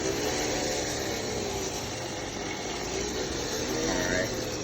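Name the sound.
2016 Dodge Charger engine revving with noise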